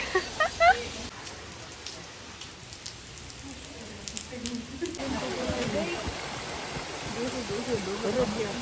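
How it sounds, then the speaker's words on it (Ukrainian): Steady hiss of falling rain in a tropical park on Madeira, heavier in the second half, with faint voices and scattered drips mixed in. "Знову йде дощ."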